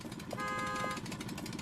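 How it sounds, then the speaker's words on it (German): A vehicle horn in the video game RV There Yet gives a single sustained honk of about half a second, over a constant engine and road drone. "Hupe geht."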